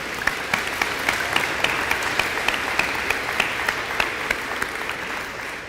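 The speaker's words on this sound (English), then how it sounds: "So one more round of applause for all of them." Sustained audience applause at a spring sports awards ceremony, a steady dense wash of clapping with a few sharper individual claps standing out, lasting the whole stretch at an even level.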